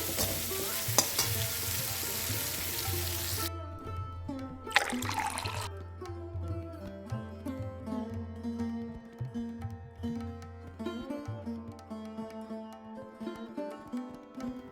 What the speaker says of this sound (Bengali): এটা দিয়ে আমি ভালো করে একটু কষিয়ে নেব মশলাটা যাতে পুড়ে না যায়